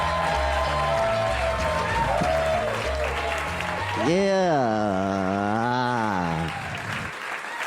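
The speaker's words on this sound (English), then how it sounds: "So let's put the hands together right now" A comedy club audience at Gotham Comedy Club applauds and cheers to welcome a comedian, a steady wash of clapping that runs under a loud voice and tapers off at the end.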